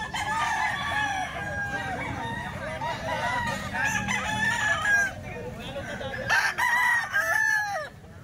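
Golden Boy Cross gamefowl roosters, about nine months old, crow loudly and repeatedly close by, several long strained calls overlapping with clucking in a farmyard.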